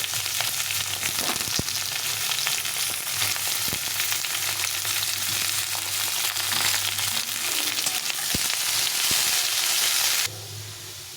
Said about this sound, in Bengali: এখন আমি ওলটা দিয়ে দেবো ওলটাকেও আমি সুন্দরভাবে ভেজে নেব